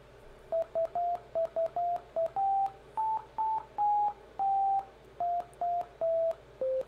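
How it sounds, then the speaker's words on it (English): Simple electronic beeping tones generated by ChatGPT attempt the melody of Twinkle Twinkle Little Star, a run of short and longer sine-like notes in a stepped, uneven rhythm, clean and alone with no voice. "So then I asked it to play Twinkle Twinkle Little Star."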